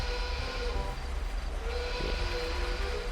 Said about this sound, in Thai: เสียงรถไฟอะไรตรงนี้